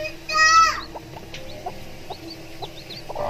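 Chickens cluck in short, scattered calls at close range, with a brief louder burst near the start over a steady farmyard background.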